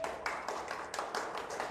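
An audience at a product presentation claps in a short burst of quick, light, fairly faint claps in a loose rhythm, with no voices over them.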